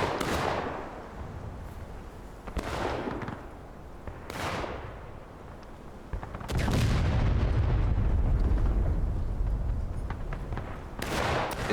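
Artillery fire in a Civil War video game: a series of booming cannon shots, some distant and some closer, with a heavier sustained roar partway through and a steady battlefield rumble underneath.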